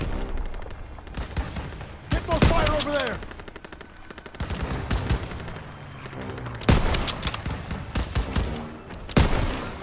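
Gunfire in the Call of Duty WW2 video game: rapid machine-gun bursts and single loud shots in clusters, close and punchy, with brief gaps between volleys and a voice speaking at times.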